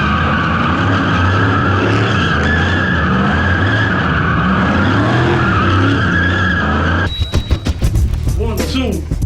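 Car drifting donuts with loud sustained tire skidding and a revving engine, a long continuous screech close by, then an abrupt cut to a quieter stretch with fluttering squeals.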